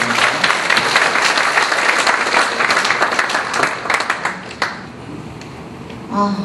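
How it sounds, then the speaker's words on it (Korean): A church congregation applauding, dense sustained clapping filling the room before it thins out and fades near the end. "여러분 큰 박수로 환영해 주시기 바랍니다"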